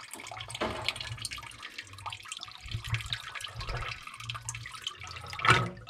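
Water surging down a pipe into a plastic septic tank, a gurgling, splashing rush that rises and falls in uneven bursts, close by, with a sharper splash near the end.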